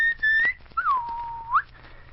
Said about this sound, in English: It's someone snoring and whistling in his sleep.